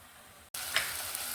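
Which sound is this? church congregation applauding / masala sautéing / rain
masala sautéing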